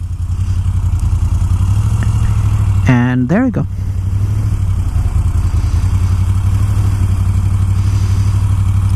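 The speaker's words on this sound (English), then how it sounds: "I've engaged the engine," A motorcycle engine idles steadily with a low rumble throughout, while a person talks briefly over it.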